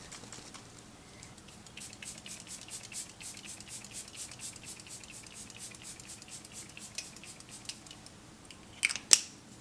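A rapid rattling shake of a small makeup setting spray bottle goes on for several seconds, followed by a couple of short sharp sprays near the end.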